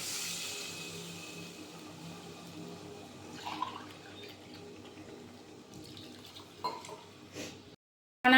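Two cups of water poured into a pan of frying egg and potato curry with tomato paste, a soft splashing and trickling that fades under kitchen background noise, with a few louder clinks near the end.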